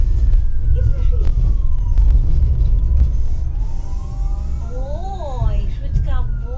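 An ambulance siren wails, rising and falling over steady city traffic rumble, sweeping more quickly toward the end, with a voice talking at times.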